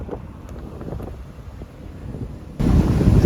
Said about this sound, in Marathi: इथे खाडीवरील वाऱ्याचा आवाज खाडीतील पाण्याचा आवाज आणि व्हेकलचा आवाज मिश्र होऊन जातात